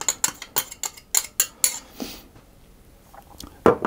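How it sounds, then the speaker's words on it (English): Milk, brandy and egg stirred together in a bowl for a Scottish Hogmanay black bun: a run of sharp, regular clinks of a utensil against the bowl, close and bright, then quieter scrapes and one last knock. "I'm going to stir those together just to get them all combined"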